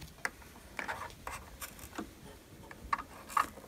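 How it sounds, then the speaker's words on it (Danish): Quiet, scattered snips and light rubbing as scissors cut a notch into the bottom layer of fabric while sewing a long vest, close and faint with short clicks. "Så skal jeg have klippet et hak i det underste lag."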